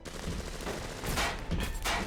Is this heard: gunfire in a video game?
yes